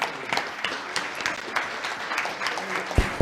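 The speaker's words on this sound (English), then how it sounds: "A louder round of applause" An audience at a women's conference applauds with steady, dense clapping that swells in bursts, with a voice heard briefly over it.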